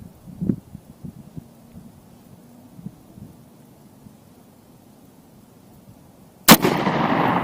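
A single loud, close Desert Eagle .50 AE pistol shot cracks outdoors near the end, with wind rumble and a few faint knocks before it and a noisy tail after.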